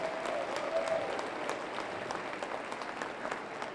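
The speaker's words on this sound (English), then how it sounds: "Give them a big round of applause" Audience at a youth fair market hog show claps in steady, dense applause that stays moderately loud throughout with no pause.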